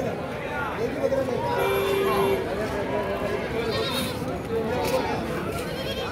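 Goats bleat at a busy livestock market in Ajmer, India, with several calls rising over a steady crowd murmur while someone talks close by.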